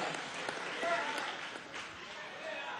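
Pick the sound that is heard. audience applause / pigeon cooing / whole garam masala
audience applause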